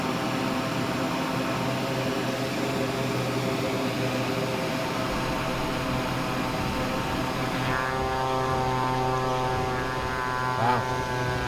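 Quest Kodiak propeller airplane in a Mission Aviation Fellowship paint scheme flaring to land, giving a steady loud engine and propeller drone with a tonal hum that shifts in pitch partway through.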